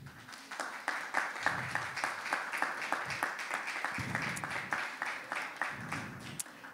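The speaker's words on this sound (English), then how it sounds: "Give him a round of applause." An audience at a lecture event applauds for a guest speaker invited to the podium: a steady, fairly quiet patter of many hands clapping that lasts several seconds and continues throughout.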